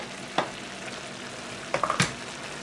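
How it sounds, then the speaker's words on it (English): Cabbage cooks in a pan with a soft continuous sizzling hiss, broken by a couple of brief clatters from stirring near the start and end. "Now look at it simmering."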